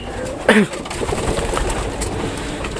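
Pigeons kept in a loft give one loud, close coo near the start, followed by a soft, steady murmur of more cooing in the background.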